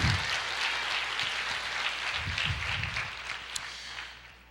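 A church congregation claps together in a dense, steady wash of applause that fills the room and slowly tapers off toward the end, with faint voices mixed in.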